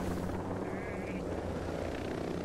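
A helicopter in the video game Ghost Recon Breakpoint gives off a steady, droning rotor hum that runs throughout, with a brief higher whine partway through.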